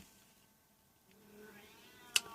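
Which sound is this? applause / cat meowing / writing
cat meowing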